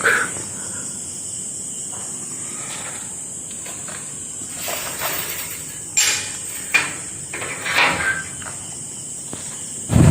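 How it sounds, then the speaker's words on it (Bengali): Crickets chirp at dawn in a steady, high drone that runs throughout, still dark on a quiet street in Haldia, with a few scattered knocks and footsteps breaking through now and then. "ঝিঝি পোকার ডাক শোনা যাচ্ছে"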